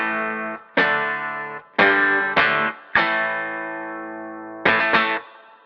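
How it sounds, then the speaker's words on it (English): An electric guitar, a red Marlin Sidewinder, plays through an AC30 amp emulation on the bridge pickup, striking a series of loud, close distorted chords in uneven bursts, each ringing briefly before the next strum. "we get on stage and we're handed our red Marlin Sidewinder plugged into an AC30"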